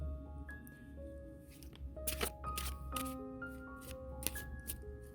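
A deck of cards is shuffled in several quick papery riffles and flutters, fairly quiet and close, over soft background music.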